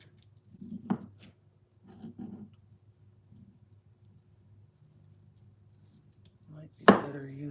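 A knife chops food at a bushcraft camp: a few sharp, close cuts come in small clusters separated by quiet pauses, ending with one louder strike.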